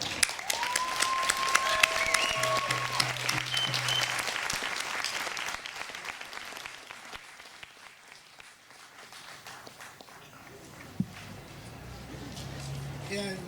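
Audience applause welcoming a speaker named Kelly at a live talk, dense sustained clapping that gradually fades, with a voice and brief noises emerging near the end.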